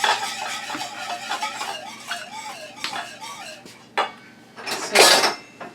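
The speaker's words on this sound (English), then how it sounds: "So I just started putting the pudding mix through the sieve right after." Pudding mix being worked through a metal sieve, giving steady clinking and scraping of metal against a bowl with a few sharper knocks and rattles toward the end.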